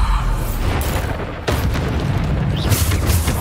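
Bombarda spell blast in a Hogwarts wizarding game, a dense booming roar that swells continuously with a sharp renewed burst midway, loud and close, no voices.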